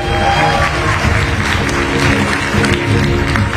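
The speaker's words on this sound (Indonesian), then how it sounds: "Biasa tepuk tangan buat Universitas Padjadjaran" Crowd applause at Universitas Padjadjaran during a televised talk show, dense continuous clapping filling the hall at steady loud volume with a light mix of voices in the crowd.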